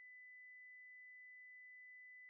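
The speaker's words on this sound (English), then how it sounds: "let's play this sine wave and have a look at it on our spectrum analyzer" A pure 2 kHz sine test tone plays steadily through music production software, one unbroken, even pitch from start to finish with no other sound.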